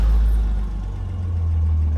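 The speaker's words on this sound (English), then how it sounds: "the car fires up real easy" A 1969 Jaguar XKE convertible's 4.2-litre engine fires and settles into a deep, throbbing rumble, loud and close, its low idle pulsing steadily.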